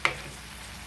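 Ground meat browning in a pan for a taco hashbrown casserole, a steady close sizzle with one brief clink at the start, no talking.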